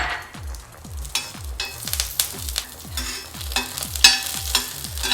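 Green chillies and curry leaves frying in oil on a tawa, with a steady sizzle and a regular rhythm of spatula scrapes and knocks against the pan, close and clear with no talk.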